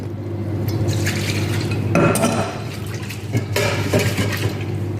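Water poured from a vessel into white flour mixed with starter in a bowl for injera batter, a steady close splashing pour with a couple of brief louder surges and some clinking of the dish.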